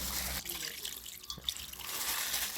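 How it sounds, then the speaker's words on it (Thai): Plain water is poured into a Thai grilled-meat marinade for pork barbecue, giving a continuous close splashing trickle that briefly thins in the middle and then resumes. "เติมน้ำเปล่าเข้าไปอีกนิดนึงนะครับ"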